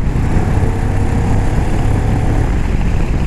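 A Moto Morini Calibro twin-cylinder motorcycle engine runs with a steady, throbbing low rumble throughout, close and fairly loud, with no voices.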